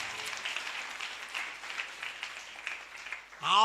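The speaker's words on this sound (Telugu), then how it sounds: "నమ్మిన వాళ్ళు చప్పట్లు కొట్టండి వేసే గట్టిగా." A congregation claps at a Sunday worship service. Fairly close, continuous clapping runs for about three seconds before a louder voice or tone cuts in at the very end.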